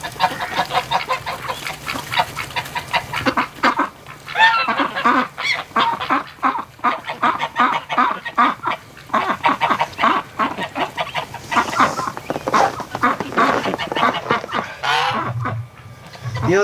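Wintering ducks and geese outdoors on a farm quack and honk loudly and continuously, with many overlapping calls close by and no talking.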